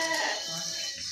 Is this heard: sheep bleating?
yes